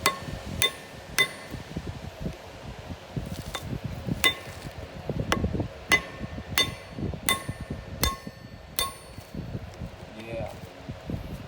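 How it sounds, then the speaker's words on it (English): Repeated sharp metallic hammer strikes ring out at a steady pace as bearing parts are hammered together on a railway vibration demonstrator, with rustling and handling noise between blows. "Oh no, we might have to hammer again."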